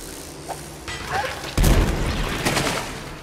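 A grenade blast in Dishonored lands with a loud, sudden boom about halfway through, followed by a rumbling tail and a second softer impact, over a busy background of game noise.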